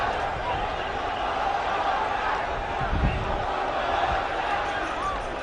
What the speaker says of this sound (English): Now the crowd's getting on.